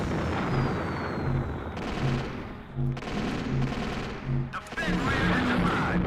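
Flux missiles launch in Battle Engine Aquila, a string of booming, rumbling blasts and rapid firing bursts repeating through the clip over steady mechanical noise.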